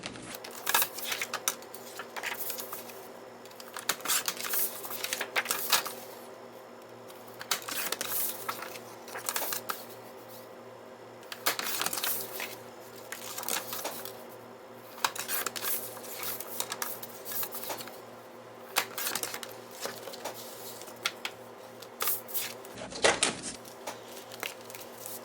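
Paper notepad being cut to size with repeated crisp cutting and rustling strokes in irregular bursts, separated by short pauses, close and fairly quiet.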